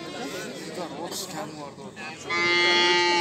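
At a livestock market, a young heifer gives a long, nasal moo near the end, following a stretch of people talking and background chatter.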